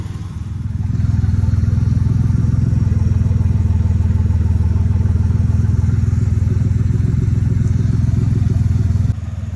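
Ford Ranger truck fitted with a Mustang 5.0 V8 running steadily after starting, a loud, close, deep idle rumble that holds constant for several seconds before cutting back.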